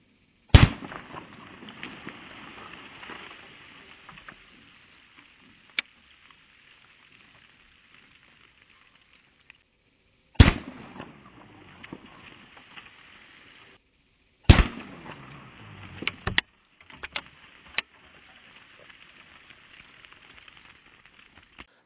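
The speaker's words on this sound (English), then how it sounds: "let's go ahead and see if we can hit a milk jug with one of these wax slugs" Wax slugs fired from a GEFRRSN at a milk jug: three sharp, loud shots spaced several seconds apart outdoors, each followed by a lingering hiss of wind or rustle and scattered small clicks.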